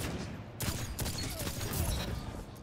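Gunshots during a one-on-one video game match, a few sharp cracks rising over a steady background of game noise.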